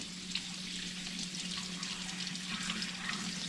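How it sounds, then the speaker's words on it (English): Squirrel meat rinsed under a running tap, a steady close hiss of flowing water splashing over the meat in a sink, continuous and unbroken with no voices. "I'm just going to give them a quick rinse off here."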